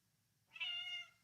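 A pet cat gives a single clear, rising meow, close and fairly loud, over a low steady hum in a quiet room.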